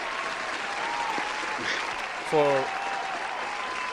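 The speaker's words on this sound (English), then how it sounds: "let me give you another round of applause" Steady applause from a crowd fills the background while a voice briefly speaks over it.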